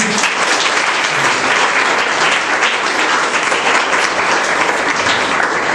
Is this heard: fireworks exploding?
no